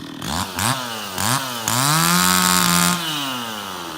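Chainsaw revving up close while cutting trees on a property, with several short rising bursts of the engine before it settles into a loud sustained whine, then eases down slightly at the end.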